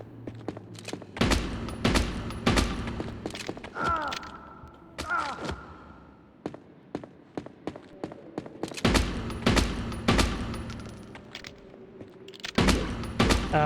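Repeated weapon fire in the PulseBreaker game demo: sharp, loud percussive shots in irregular bursts, some tightly grouped, with a few whirring charge-up tones between volleys.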